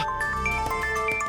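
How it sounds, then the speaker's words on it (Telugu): A phone ringtone plays alone at moderate level, a steady repeating melodic pattern of bright electronic tones running through the whole moment. "ఏదో ఫోన్ వస్తుంది, చూస్తాను"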